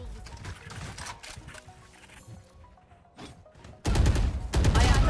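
Gunfire in the shooter game Valorant: rapid shots crackle at moderate level, then heavy sustained spraying bursts out loud near the end.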